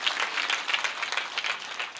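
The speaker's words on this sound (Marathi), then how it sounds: "जोरात टाळ्या वाजवा, टाळ्या कमी पडत आहेत तुमच्या" Audience clapping at a devotional kirtan gathering, a steady spread of many hands patting at moderate volume from a crowd, continuing evenly throughout without talk over it.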